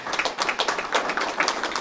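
An audience applauds a guest at a presentation, a short burst of fairly close, uneven hand claps with no voices over it.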